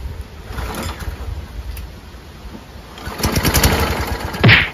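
A Briggs & Stratton Quantum small engine, freshly rebuilt, cranks with a low rumbling turnover that rises into a louder, rougher burst of running near the end, close by with no talk.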